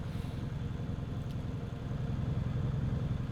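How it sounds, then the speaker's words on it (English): Truck engine in Euro Truck Simulator 2 drones at a steady low rumble throughout, close and constant with no talking. "I can't hear it over the engine."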